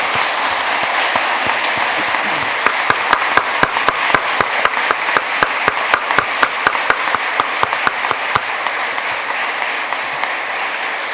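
Loud, sustained applause from an audience at a lawyers' swearing-in ceremony before the Supreme Court, a dense wash of clapping with sharp individual claps standing out, running steadily throughout without talk.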